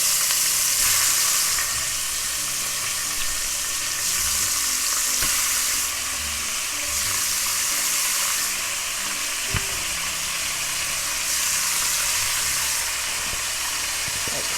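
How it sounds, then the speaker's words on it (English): Pork neck bones frying loudly in a preheated pot, a steady dense sizzle and hiss with occasional small pops and stirring clatter, close and continuous with no talking. "we're gonna go ahead and put our meat in our pot"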